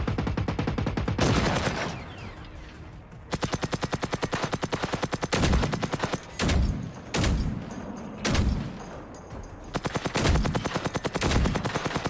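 Rapid bursts of gunfire in the game Generation Zero, automatic volleys with short single shots and booms in between, loud and close, with no talking.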